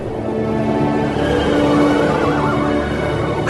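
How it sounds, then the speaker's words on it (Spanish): Horses neigh and whinny loudly as a radio drama sound effect for a chariot of fire drawn by fiery horses, a continuous dense layer with faint hoof clatter underneath and no talk. "de pronto apareció un carro de fuego con caballos también de fuego"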